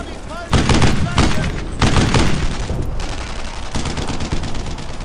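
Gunfire in the World War II shooter game Brothers in Arms: Earned in Blood, loud bursts of rifle and machine-gun fire with heavy booms, under shouted commands from soldiers.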